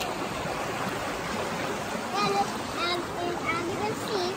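A fast-flowing creek at Devil's Den rushes and splashes steadily throughout, with a voice chattering over the water in the second half.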